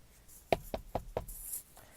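Four evenly spaced knocks on a door, sharp and close, sounding alone in a quiet room with no speech.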